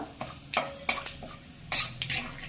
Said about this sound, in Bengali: মাছ ভাজার ওই তেলের মধ্যে অল্প করে সাদা জিরে দিয়ে দিলাম, অল্প করে কালো জিরে, আর 2-3টে তেজপাতা